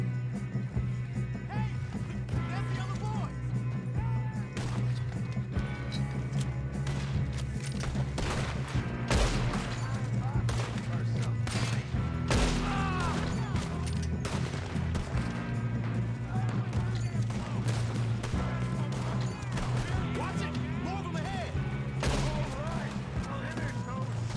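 Rapid bursts of gunfire crackle through a Red Dead Redemption 2 shootout, sharp shots scattered over a steady bed of music, with someone speaking over parts of it.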